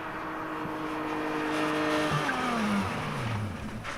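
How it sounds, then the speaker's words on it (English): A sports car braking hard from 60 mph, with a steady engine tone that drops away, followed by tire squeal and skidding that sweeps downward in pitch as the car slows, heard at moderate distance without talking. "the last one is a sports car from 60 miles an hour"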